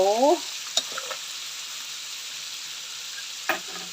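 Crab stir-fries with roasted chili paste in a pan, giving a steady sizzling hiss with a couple of sharp clanks from the utensil and a brief voice at the start.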